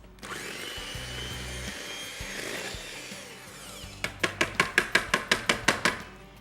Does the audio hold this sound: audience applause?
no